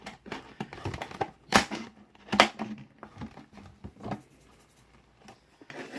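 Close scissors snipping through a stiff plastic soda bottle, with scratchy crinkling and two sharp cutting crunches, fairly quiet overall.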